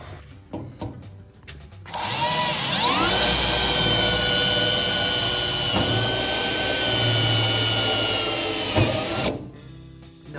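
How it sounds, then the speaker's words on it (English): A power drill whines loudly and steadily for several seconds as it pre-drills holes in wood on a 1955 Chevy wagon project, starting and stopping abruptly, with faint knocks before and after. "I am pre-drilling holes so I know where to put screws"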